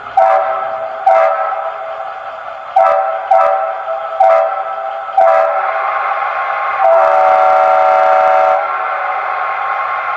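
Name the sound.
Leslie RS5T horn on a Bachmann Charger model locomotive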